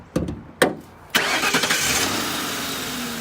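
A 2006 Mercury Grand Marquis LS Ultimate Edition starts up after a couple of clicks, catches, and settles into a steady, even idle that is close and loud.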